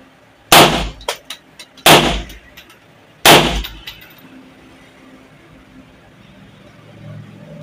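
Three sharp, loud gunshots from a 30 bore Italian-style pistol crack in succession about a second apart, each followed by brief echoing clatter, then a quiet outdoor background with faint voices.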